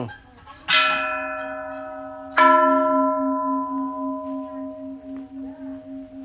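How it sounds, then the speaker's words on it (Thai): A large bell in Thailand struck twice, each strike ringing out with a rich, long-sustaining tone that slowly fades and pulses, close and loud. "ระฆัง"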